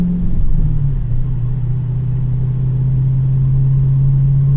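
A 426 Hemi engine idles roughly near stall, a loud, close, steady low rumble whose pitch dips slightly early on and then holds with a faint wavering, no talking.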